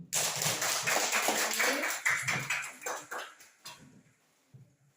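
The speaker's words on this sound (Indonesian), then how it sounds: "kita tepuk tangan untuk kelompok 3" Classroom applause for a student group, a burst of many hands clapping loudly and close, fading out over a few seconds into quiet with a few last scattered claps.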